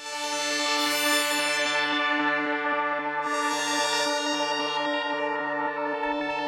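A sustained synth pad holds rich, layered chords, loud and smooth, with a slight pulsing movement underneath and no talking.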